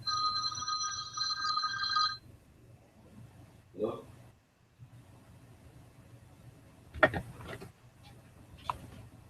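A telephone rings with a steady electronic trill for about two seconds, then stops, followed by quiet rustling and a few soft knocks.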